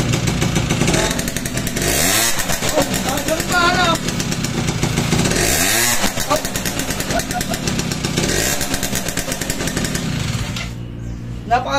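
A Yamaha Target motorcycle engine runs loud and close, rattling steadily while it is revved in three rising and falling surges, with a voice talking over it.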